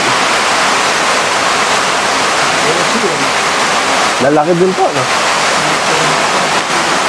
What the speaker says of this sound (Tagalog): Ayan, de-drain na po natin yung tubig.